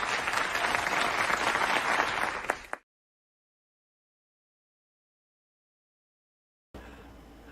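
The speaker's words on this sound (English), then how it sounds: "Please give a big round of applause for my special guest tonight, Pete Simeti." Loud studio audience applause greets a guest on a morning talk show, dense clapping that fades and cuts to silence, with a quieter room tone returning near the end.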